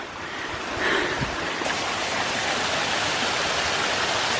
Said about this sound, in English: First little waterfall.